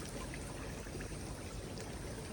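Water running and pouring steadily over a tree crab as it is rinsed outdoors in the Sundarbans mangrove forest, a continuous close splashing stream with no talk.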